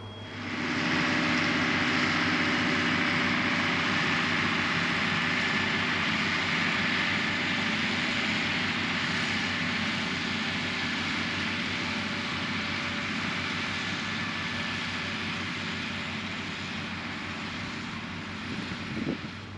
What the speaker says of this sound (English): I've been running this baler now for the second day running it.